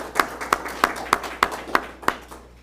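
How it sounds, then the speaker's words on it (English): A handful of people at an exhibition event at the US Capitol clap for a speaker, about seven slow, evenly spaced sharp claps, fairly close and distinct, with no crowd roar behind them. "I would like to give everybody to just give Dr. Chima a round of applause so we could appreciate his efforts."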